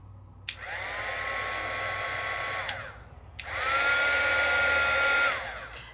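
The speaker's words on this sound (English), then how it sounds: "I chose to use a heat gun. So this is my Sizzix heat tool." A Sizzix heat tool blows hot air in two loud, steady bursts with a high whine, the first running about two seconds and the second, stronger one about two seconds after a short pause.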